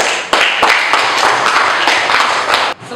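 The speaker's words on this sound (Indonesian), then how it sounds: "Beri tepuk tangan yang meriah untuk kelompok 3." A primary school classroom claps for a student group, dense and enthusiastic applause from many hands, close and loud, continuing for nearly three seconds before cutting off abruptly.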